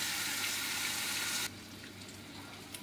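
Chicken frying in a pan for a tomato-braised chicken dish, a steady loud sizzle that suddenly drops to a quieter, softer crackle partway through.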